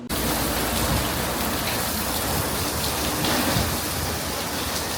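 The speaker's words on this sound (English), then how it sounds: "Still pouring rain, but they said no more lightning" Heavy, steady rain pours down at Sebring race track in a dense, continuous hiss, with no pauses or voices.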